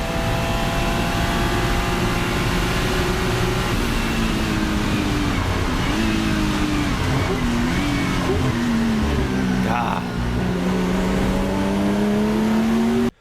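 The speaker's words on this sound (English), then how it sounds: "Porsches, I feel like, always have a really unique engine sound." Porsche 935K race car engine revving loud and close, its pitch climbing and dropping over several sustained pulls before cutting off abruptly, with a brief exclamation from a man partway through.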